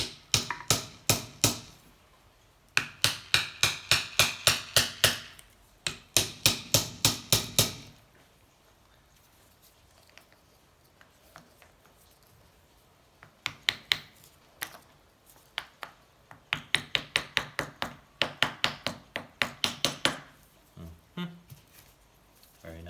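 A hammer strikes the piston of a 1984 Honda C70 Cub motorcycle engine in bursts of rapid, sharp metallic blows, separated by quieter pauses.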